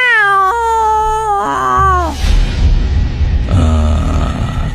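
A black cat's menacing night-time meow: harmonic wailing cries with shifting pitch, then a harsher, noisier growling stretch, close and loud.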